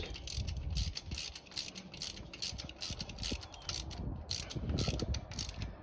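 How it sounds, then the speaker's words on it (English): A hand ratchet clicks in rapid, uneven runs as bolts are snugged into an aluminum engine block on a zero-turn mower, close-up, with short pauses between strokes and no talking. "you gotta be careful with putting them in with a ratchet"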